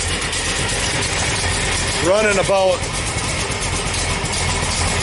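A twin Eaton M90 supercharged car engine idles steadily with a low, even rumble throughout on its first start, while someone speaks briefly over it.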